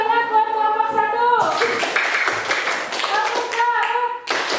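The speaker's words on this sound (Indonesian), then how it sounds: "Silakan tepuk tangan buat kelompok 1." Classroom applause for a student group in a teacher training practice lesson in Gorontalo, Indonesia: a burst of clapping starts partway through after a sustained tonal voice, with voices continuing over the claps.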